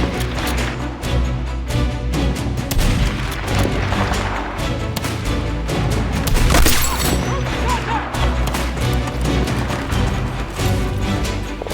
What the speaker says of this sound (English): sent in an artillery strike not because he needed to, but because he wanted to watch everything blow up